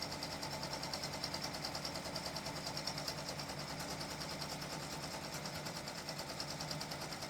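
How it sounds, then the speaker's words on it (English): Embroidery machine stitching lettering onto a bath towel, a steady close whirring hum with a fast even needle rhythm running continuously without any voices. "as it's stitching along, it's not puckering or anything to that nature as it's stitching right now"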